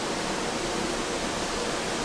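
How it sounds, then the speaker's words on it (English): Water running down inside an elevator lift shaft, a steady broadband hiss like a small trickling fall, constant and fairly loud with no speech. "the water is coming down the shaft"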